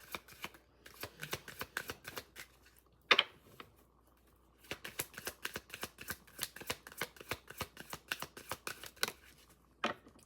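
Oracle cards from the Wonderlust deck being shuffled by hand: quick runs of crisp riffling flicks in rhythmic bursts, close and fairly quiet, with a couple of sharper slaps between passes and no talk.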